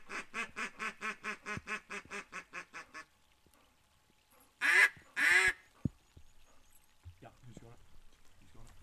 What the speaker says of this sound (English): A few duckies.